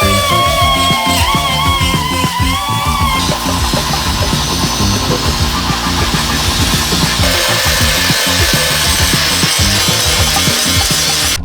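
A Jeep Cherokee XJ frame being cut out for a shackle relocation, a loud, continuous grinding and rasping cut with rapid rhythmic texture close by, no voices.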